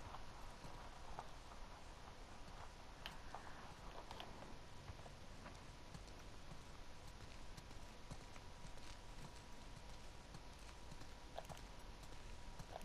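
Horses walk along in The Last of Us Part II, their hooves clip-clopping softly and evenly throughout, faint and distant beneath a quiet steady game ambience.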